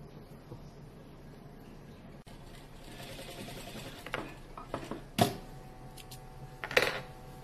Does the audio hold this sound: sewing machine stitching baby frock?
yes